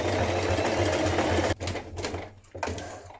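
A sewing machine stitches a buttonhole with a fast, continuous mechanical whirring and needle chatter, pausing briefly and restarting in short bursts toward the end.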